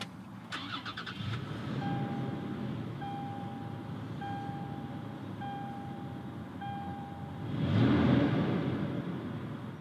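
A 2018 Toyota 4Runner TRD Pro engine starts, with a brief starter crank at the beginning, then a steady idle under repeated chime tones and a short louder surge near the end.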